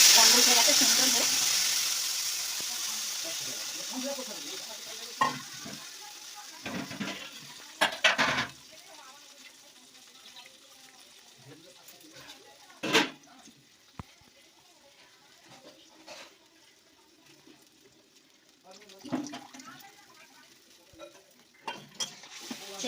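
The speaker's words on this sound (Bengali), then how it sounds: "তেঁতুলের জলটা দিয়ে দিচ্ছি" Tamarind water poured into a hot pan for a fish curry, an initial hiss fading into intermittent clinks and scrapes of stirring against the pan, with some quiet background sounds between.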